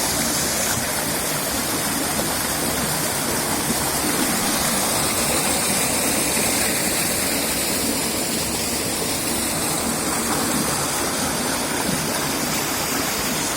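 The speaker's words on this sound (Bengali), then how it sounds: "একটা সরু গলি বেয়ে ঝর্ণাটা বইছে।" Water of Ghagra waterfall at Jhargram pours through a narrow channel, a steady, loud, continuous rushing roar with no break and no voices.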